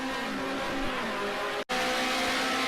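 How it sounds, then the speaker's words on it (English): A 1973 BMW 2002 race car drifting around a hairpin in Project Cars 2, its engine a steady, loud droning whine with a brief cut in the middle before the same sustained note resumes. "As Gerard, he drifts around the old hairpin."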